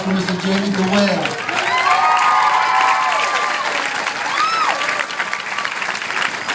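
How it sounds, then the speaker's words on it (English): A large audience at a ceremony gives a sustained, loud round of applause mixed with cheering and whoops, the dense clapping steady throughout with voices rising above it. "another nice round of applause for Mr. Jamie DeWale."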